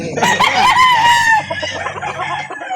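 A rooster crows loudly and close at a chicken market in Calauan, Laguna, one long rising-and-falling call followed by softer clucking and faint crowd noise.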